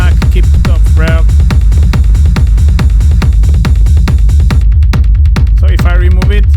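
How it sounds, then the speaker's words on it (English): Dense, loud industrial techno groove with a pounding kick and an offbeat noise reverb wash between the hits, driving steadily throughout. "it's creating this offbeat kind of noise reverb"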